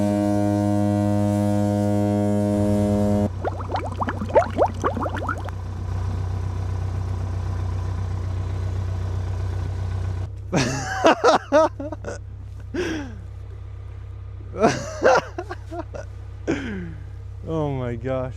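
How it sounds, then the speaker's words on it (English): A bulldozer engine strains as it drags a tractor out of a frozen pond, a steady low mechanical drone running throughout while people talk over it. "So we got the dozer in place and we got the straps connected to the tractor"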